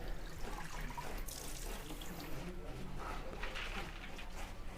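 Lentils (dal) being washed in water, with steady splashing and running-water sounds close by for the whole stretch, while birds coo faintly in the background of a village home setting.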